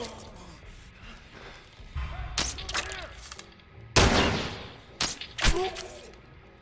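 Several loud, separate gunshots in The Last of Us, sharp cracks landing at uneven intervals over a few seconds, each ringing out against a quieter backdrop with some talking between them.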